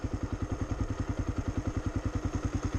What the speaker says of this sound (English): that's off throttle. The bike has basically brought itself up the hill.